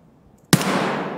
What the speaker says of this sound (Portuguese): que tiro!